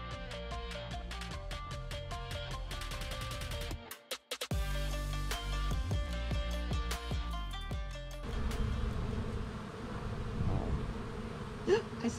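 A dense, steady buzzing of many honey bees around a hive hums close by, joined by sharp clicks and a rougher, noisier stretch near the end.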